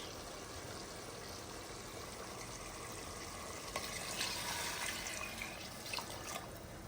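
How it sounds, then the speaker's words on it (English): Faint, continuous rushing splash of water being poured into a pressure cooker pot of rice for biryani, steady throughout with slight swells, no voices. "So now let's add the water."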